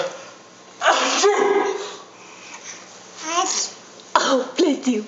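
Toddler twins sneeze in imitation of their father, three separate sharp nasal bursts spaced across a few seconds, close and clear, with baby babbling and vocal sounds in between.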